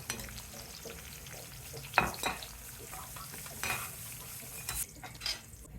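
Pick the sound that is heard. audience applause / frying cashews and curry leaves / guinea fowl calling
frying cashews and curry leaves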